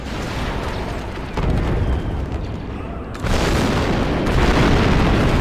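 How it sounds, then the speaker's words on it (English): An explosive charge detonates in the Star Wars: Republic Commando game on Geonosis, a loud sustained rumbling roar that swells in two stages and stays heavy to the end. "The charge is set and ready to detonate."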